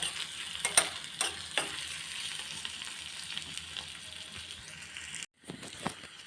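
Onions fry to golden brown in a pan for a Kerala curry, a quiet sizzle with intermittent clattering stir strokes near the start and a brief dropout before the frying resumes.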